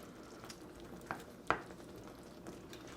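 Pepper steak sauce thickened with cornstarch simmering quietly in a single pan, a faint low bubbling bed broken by a couple of sharp utensil clicks, with no talking.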